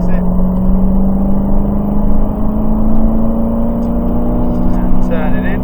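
A Dodge Challenger Hellcat pulls hard on a track, its engine drone steady and loud with pitch slowly climbing as it accelerates, heard from inside the car.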